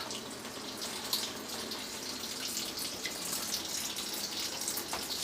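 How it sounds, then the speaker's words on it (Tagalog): Tap water trickles slowly through an alkaline water ionizer, a close, steady splashing stream with no talk over it. "Mas maganda pong mahina lang yung tulo para napifilter mabuti yung ating tap water"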